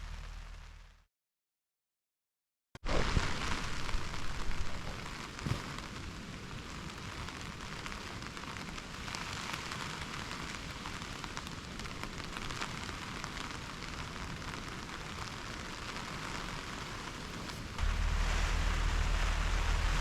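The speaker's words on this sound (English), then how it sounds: "it has not stopped raining all night long" Steady rain falls overnight during a coast-to-coast hike across England, a dense continuous hiss drumming on a nearby surface, broken by a brief silence near the start and growing slightly louder toward the end.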